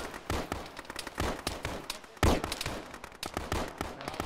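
Rapid gunfire in a military video game set in a town, repeated sharp shots in irregular bursts, loud and close, with one heavier report midway.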